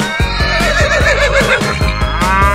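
A loud, close horse whinny, a long quavering neigh rising and falling in pitch, heard alone for a couple of seconds.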